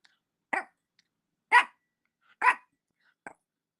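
A small, mouthy pet dog barks four times in a slow, evenly spaced series, sharp and fairly close, with silence between the barks.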